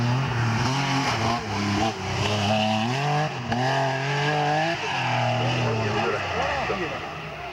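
A Ford Sierra and a Ford Escort race car pass at the Marchin hill climb, engines loud with rising and falling revs as they shift gears, while a commentator talks over the noise throughout.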